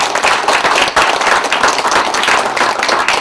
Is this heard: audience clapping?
yes